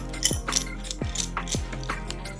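A small star screwdriver turns a little screw out of a light housing on a Rogue Rider, giving a few close, dry ratcheting clicks and metallic ticks at an uneven pace.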